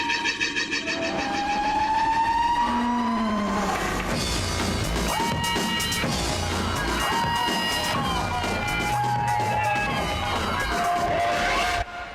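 Formula One cars at the Barcelona qualifying session scream past with high, rising engine whines over a steady roar of crowd and track noise, loud and continuous throughout.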